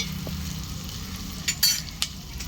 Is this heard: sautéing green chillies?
yes